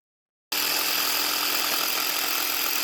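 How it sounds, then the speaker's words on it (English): A jigsaw cuts into wood for a repurposed spool bed bench, starting abruptly after a moment of silence and then running as a loud, steady buzzing whine up close. "now I'm cutting it with the jigsaw, which is power tool number 1."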